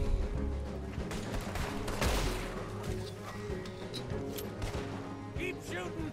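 Gunfire rings out in the Red Dead Redemption 2 shootout, a dense, continuous barrage of overlapping shots with a louder burst near the middle, no voices, just steady firing throughout.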